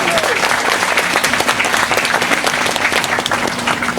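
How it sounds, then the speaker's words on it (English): A dense, steady wall of audience applause fills a hall at a youth-run STEM event, loud and sustained throughout with no pauses. "Give him a massive round of applause for running this."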